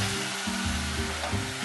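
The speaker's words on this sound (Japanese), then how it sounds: "しっかりお米を炒めてあげて温度帯が上がったところにこの白ワインを入れていきます" White wine poured into hot, toasted risotto rice in a pan sets off a loud burst of sizzling and frying that swells and settles in a few waves, heard close with no talking.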